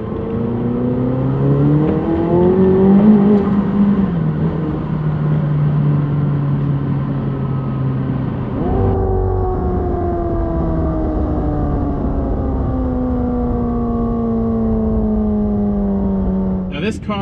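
A McLaren 720S engine revs on a manual downshift: a steady, droning engine note lifts in a sharp rev blip mid-way, then settles and slowly falls, loud and continuous throughout.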